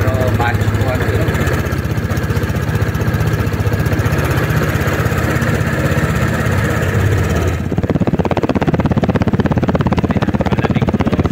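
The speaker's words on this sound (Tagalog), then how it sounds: "Ito po ang kanyang napakatahimik po ng kanyang muffler." Vespa GTS Super Sport 300 scooter from 2023 with a quiet muffler, engine idling steadily up close; the running drone continues throughout while people talk over it.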